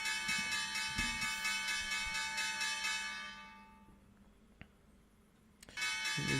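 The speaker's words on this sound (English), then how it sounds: "Hit the bell with your hammer." A bell struck with a hammer to mark the stock market close rings out with a bright, sustained tone that slowly fades over a few seconds, followed by a couple of faint taps and a fresh strike at the end.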